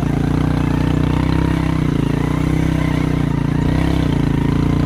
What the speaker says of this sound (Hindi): आप मोटरसाइकिल की आवाज़ सुन रहे होंगे